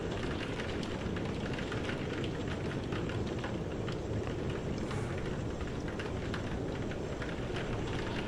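Steady rain falls in the Bonanit video game, a dense, even patter of drops with no talking over it.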